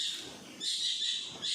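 A kingfisher calls among trees in a wooded spot, its high, thin, drawn-out notes clear and fairly near, with a brief pause between the two longer phrases.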